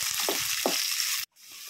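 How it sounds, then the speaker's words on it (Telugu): Onions, garlic and tempering spices fry in hot oil in a pan, giving a loud, steady sizzle that crackles throughout before cutting off abruptly near the end. "pan పెట్టుకొని ఆయిల్ వేసుకొని ఎల్లుల్లిపాయలు పోపు దినుసులు ఆనియన్స్ వేసి బాగా ఫ్రై చేసుకోవాలి"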